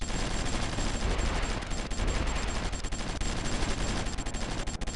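Artillery fire in the war strategy game Supreme Ruler 2020, a dense, continuous barrage of overlapping bursts and blasts that fills the whole stretch at steady loudness, with no voices.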